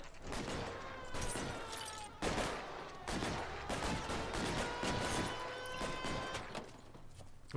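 Bursts of gunfire ring out during a hold-up in L.A. Noire, with repeated sharp shots in clusters over several seconds amid scattered clatter, fairly quiet and without talking.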